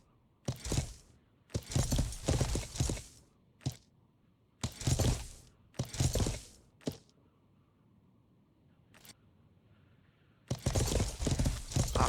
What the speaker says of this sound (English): I can hear the horse.